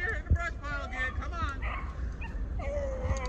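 A large pack of beagles bay and yip while chasing a cottontail rabbit on a Michigan hunt, overlapping howls rising and falling at middle distance as a man calls out over them.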